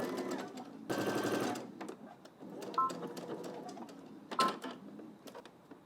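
A sewing machine runs in a short burst of stitching through fabric garment pieces, a dense rattling whir lasting under a second, followed by quieter clicks and handling noises nearby.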